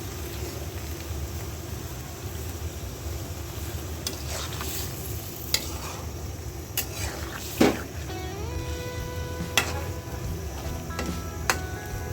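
Fish goes into a pan of water lily curry with tengra fish, a steady low simmer and bubbling running throughout, with a few sharp clinks and scrapes of utensils partway through.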